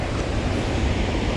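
Strong current rushes through a river spillway as a brief, dense, steady roar of moving water, loud and close.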